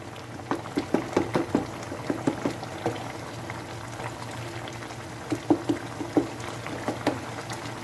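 Chicken makhni karahi boils over high heat as its water cooks off, with bursts of bubbling and popping in clustered, irregular runs and quieter gaps between them.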